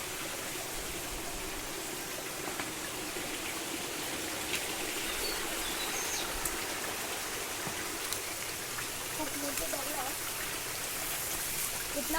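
Steady rushing water from a forest waterfall fills the whole clip, a constant broad wash of falling water nearby, with no pauses.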